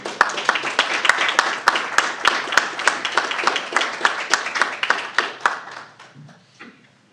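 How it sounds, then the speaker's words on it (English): A council meeting audience gives a round of applause, scattered hand claps with a few sharp individual claps standing out, building steadily and then tapering off to near silence. "Give them a round of applause for their hard"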